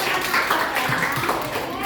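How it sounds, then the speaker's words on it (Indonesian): A room of children clapping in a dense, continuous patter at a school presentation, close and fairly loud, with some young voices mixed in. "Tepuk tangan teman-teman."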